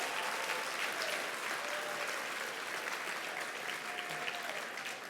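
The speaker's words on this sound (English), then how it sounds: "So, round of applause," An audience at a 25th annual gala applauds steadily throughout, a dense, even clatter of many hands clapping at moderate distance with no speech over it.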